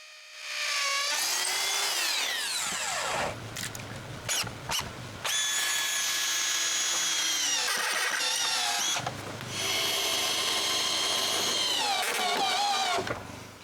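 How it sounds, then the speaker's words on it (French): A power drill drives screws through a wooden shelter frame into a concrete block outdoors, whining up and down in several long bursts with short pauses between them, close and loud. "je visse la structure au bloc de béton qu'on a installé le mois passé"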